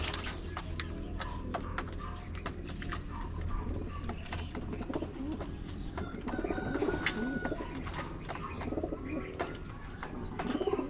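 Pigeons at a backyard loft coo and flutter softly during bath time, with low continuous murmuring, occasional splashes and wingbeats, and faint chirps over a steady background hum.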